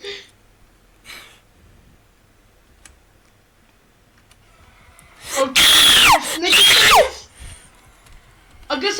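Two loud, piercing shrieks in quick succession from the Backrooms video game ring out over otherwise quiet game ambience, with faint voices before them.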